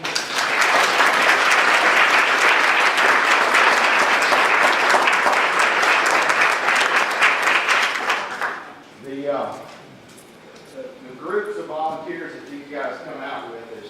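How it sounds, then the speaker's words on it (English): A church congregation breaks into loud, dense applause for a pastor, sustained and full for about eight seconds before cutting off, after which someone speaks alone over a quiet room. "I think that deserves a round of applause."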